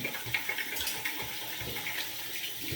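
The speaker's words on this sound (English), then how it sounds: "Take the bloom water, pour it into the bowl there." Bloom water poured from a container into a shaving bowl during a wet shave, a steady close splashing trickle with no talking.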